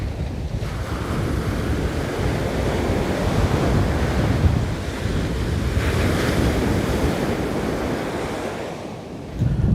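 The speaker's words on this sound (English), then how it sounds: "All this spray coming off the ocean." Ocean surf on a fishing shore, waves rolling in and spray blowing off the water, a steady loud wash with heavy wind buffeting the microphone throughout.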